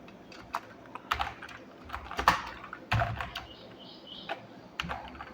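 Typing on a computer keyboard while writing HTML, with scattered clicks and short bursts of keystrokes spread across the clip, fairly close and clear with no voices.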